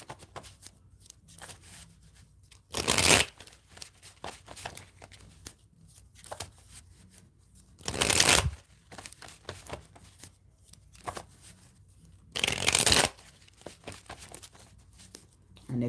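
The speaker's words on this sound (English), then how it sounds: "Let me shuffle the cards up a little bit before we move further." A deck of cards is riffle-shuffled three times, each a quick crisp burst, with quiet pauses and faint handling in between.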